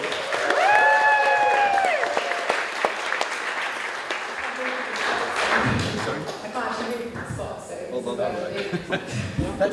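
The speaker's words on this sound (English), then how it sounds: "Let's give them a big round of applause." Applause from a room of wedding guests after the bride and groom's speech, loud at first and gradually thinning, with chuckles and voices mixed in.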